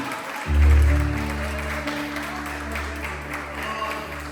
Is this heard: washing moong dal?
no